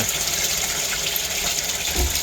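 Septic waste gushing steadily through a drain line just cleared of a blockage at a septic tank, a loud, continuous close-up rush of liquid with no pauses.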